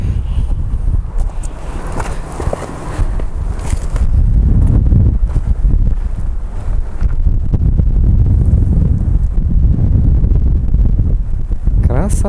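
Strong wind gusts roar across the microphone on Mount Koshka near Simeiz in Crimea during a storm, a loud continuous rumbling buffet that swells and persists throughout.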